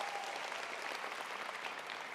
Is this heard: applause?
yes